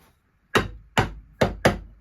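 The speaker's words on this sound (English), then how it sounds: "give it a good whack" Four sharp hammer whacks land on a part to press screw tips into it, marking pilot holes; the blows are loud, close and spaced at a steady rhythm.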